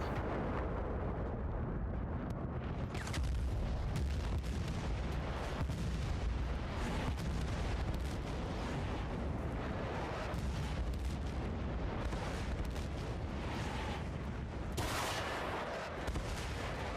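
Mortar explosions in a video game battle on the Port Valdez map thunder loudly and continuously, with booms and gunfire layered in a dense, rumbling barrage.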